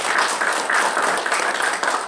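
Church congregation applauding together, a dense, steady wash of many hands clapping at moderate volume for about two seconds, with no talk over it.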